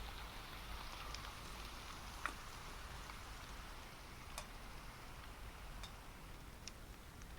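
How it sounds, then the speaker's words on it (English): Steady rain in the video game Minecraft, a soft continuous hiss with occasional faint ticking drops, evenly loud throughout with no talk. "That rain is obnoxious."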